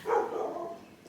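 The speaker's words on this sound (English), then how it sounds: "Can't get away from that dog barking." A single dog bark, fairly faint and at some distance, with a short trailing tail.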